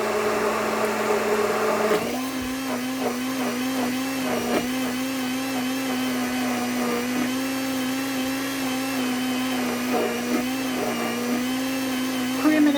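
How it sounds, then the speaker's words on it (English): A hand mixer creams a Jamaican rum and raisin ice cream mixture in a bowl, a loud, steady motorized whine after a brief startup, running close with little variation. "I find I get best result with a hand mixer"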